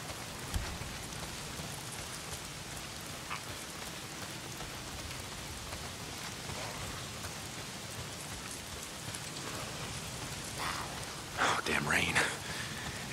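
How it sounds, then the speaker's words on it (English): Steady rain hisses down in the video game Days Gone, a continuous wash of drops on surfaces lasting throughout, with a louder rustling swell near the end and faint murmuring voices beneath. "If it's not the freaks, it's the goddamn rain. Why is it always raining?"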